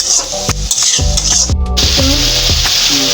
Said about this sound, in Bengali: এখানে পেঁয়াজটা ভালোভাবে ভেজে নেওয়া হচ্ছে